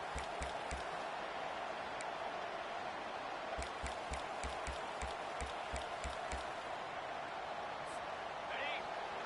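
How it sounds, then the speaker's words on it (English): College football stadium crowd roaring in a video game, a loud constant wash of noise with a rhythmic low thumping running through it. "listen to this crowd noise. This stadium is vibrating."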